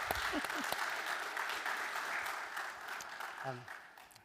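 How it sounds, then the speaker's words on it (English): An audience at a radio industry conference session claps after a sonic branding jingle demo, a fairly quiet, steady patter that thins out toward the end, with a voice briefly heard near the close. "I think it deserves a round of applause"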